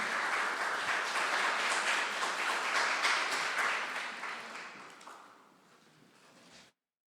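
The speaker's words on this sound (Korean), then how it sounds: "그래서 환영의 박수 한번 하겠습니다." A church congregation at Sunday worship gives welcoming applause for a first-time visitor, full and steady at first, then thinning out and fading to scattered claps before stopping.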